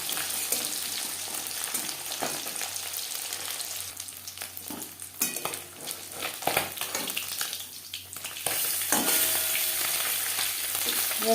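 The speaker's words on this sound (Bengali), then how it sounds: "বেলে মাছ খুবই নরম মাছ, আমি একটু কড়া করেই ভাজবো" Bele fish fries crisply in hot oil, a dense steady sizzle with bubbling crackle that dips and stirs in the middle before surging loud again at the end.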